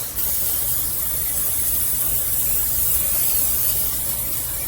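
A steady, close hiss of aerosol cooking spray into a casserole dish runs almost nonstop for several seconds.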